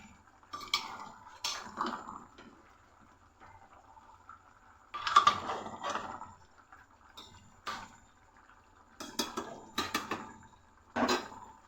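Chicken being stirred in a cooking pot, a spoon scraping and clinking against the metal in short irregular bursts with quiet pauses between, close and fairly soft, no voices.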